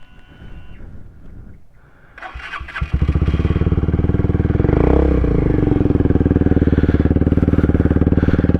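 A Lexmoto Tempest motorcycle engine cranks, catches and then settles into a loud, steady, close running rumble that continues to the end, with no speech over it.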